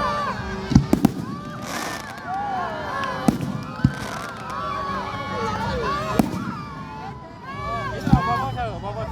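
Fireworks burst and crackle repeatedly at an outdoor Independence Day celebration in a housing society, with sharp bangs scattered among a lively crowd, whistles and children's shouts, and people talking nearby.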